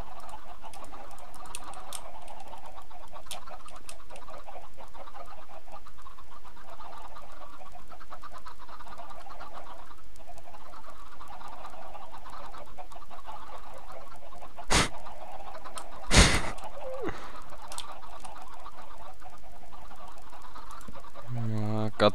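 Chickens clucking in Minecraft while a chicken coop is being upgraded, soft intermittent clucks over a steady, dense game background, with a couple of sharp clicks near the end.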